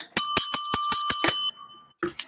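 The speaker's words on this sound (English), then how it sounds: "Everybody give bells to Maria because she does it." A bicycle-style bell rings rapidly about eight times in quick succession, bright and loud, for a teacher on a live show, then a brief pause and a couple of short sounds follow.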